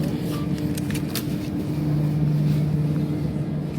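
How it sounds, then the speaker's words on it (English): A car idles and rolls along a busy New York City street, a steady low engine drone with a brief rising tone, constant traffic and city noise around it. "My Uber's finally here, but he is driving away."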